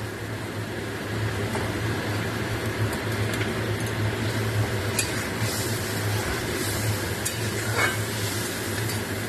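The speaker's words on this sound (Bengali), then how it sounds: "এবার এটা আমি ফ্রাই করব" A spice paste of onion, garlic, ginger and whisked yogurt fries steadily in a pot for biryani, with a continuous close sizzle, occasional stirring scrapes and light utensil clinks, no talking.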